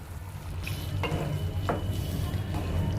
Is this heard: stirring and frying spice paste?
yes